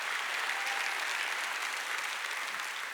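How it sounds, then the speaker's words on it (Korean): Congregation applause during a Wednesday church worship service, dense and continuous clapping that holds at an even, full level throughout the whole stretch without voices. "깨달은 사람아 박수를."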